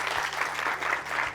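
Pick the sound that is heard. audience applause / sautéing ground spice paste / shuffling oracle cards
audience applause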